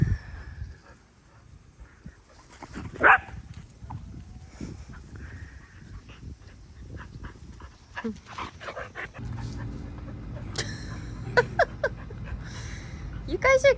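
A dog indoors panting, whimpering and giving a few short yelps, mixed with scuffling and shuffling noises; people talk and laugh over it at close range.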